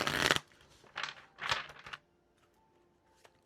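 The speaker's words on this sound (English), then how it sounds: "Give these a couple quick shuffles." A deck of oracle cards gets a few quick shuffles, short papery riffling bursts close by separated by brief gaps, then near silence.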